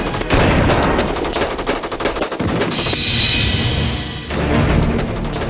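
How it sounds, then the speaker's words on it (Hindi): Heavy gunfire in a documentary on CRPF combat with a Pakistani brigade: loud, rapid bursts of automatic weapons fire overlapping into a sustained volley, with a brief rushing roar in the middle. "लेकिन जवाब आया भारी गोलीबारी के तौर पर"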